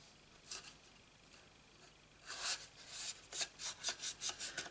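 A folded paper craft box being rubbed down by hand along its creases, a run of soft, quiet rasping strokes that grows into a steady rhythmic series of close rubs with no talk.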